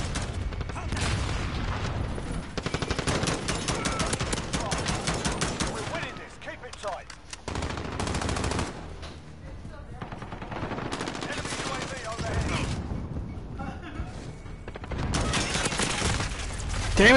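Automatic gunfire in Call of Duty Modern Warfare, long rattling sprays of rapid shots with brief lulls between bursts, loud and close, with voices talking over parts of it.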